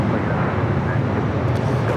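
A 23-year-old Boeing 767-400 jet airliner at LAX, bound for JFK, gives a continuous broad roar with low rumble and wind buffeting, loud and unbroken throughout.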